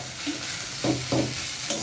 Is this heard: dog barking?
no